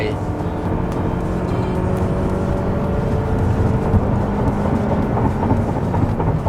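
A 2022 Toyota Camry 2.5G automatic with a 2,500 cc engine accelerates, heard from inside the cabin as a steady, heavy low rumble of engine and road noise that swells slightly toward the end.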